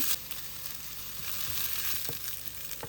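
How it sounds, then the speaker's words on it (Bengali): Dried shrimp fry in hot oil, a steady close sizzle and crackle with a few stirring clicks, and no voices. "সেই তেলের মধ্যে আমি এখন চিংড়ি সুরকিগুলো ভেজে নিব"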